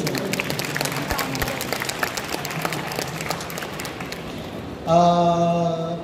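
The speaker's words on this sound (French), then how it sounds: "On peut les applaudir" A crowd applauds with dense, steady clapping for several seconds, then a bright sustained musical tone cuts in near the end.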